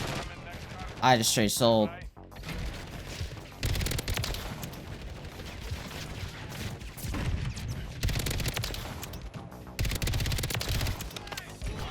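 FJX Horus gunfire in Call of Duty MW3, bursts of rapid automatic shots repeating across the clip alongside other in-game effects, with someone talking briefly near the start.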